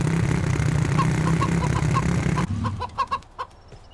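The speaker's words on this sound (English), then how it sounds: "Where the hell you at, chicken?" A chicken in the survival video game Mist Survival clucks in a string of short, repeated clucks, first over a steady vehicle engine hum that cuts out, then clearer and more spaced on their own.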